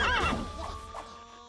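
A horse neigh from the rhythm battle royale game Headbangers Rhythm Royale, a single loud whinny with a falling, wavering pitch that fades out within about a second, heard alone.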